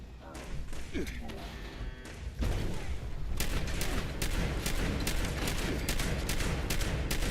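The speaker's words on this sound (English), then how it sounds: "Who is shooting at me?" Gunfire in the post-apocalyptic video game Fallout 76 aimed at the player: a dense, steady run of sharp shots and thuds starting a couple of seconds in and continuing loud to the end, with talk mixed in.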